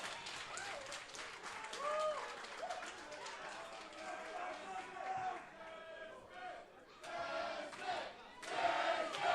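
Wrestling crowd at a Turkey Slam 2024 event roars and cheers in loud, surging waves, with shouts and bursts of applause rising and falling under a commentator's voice.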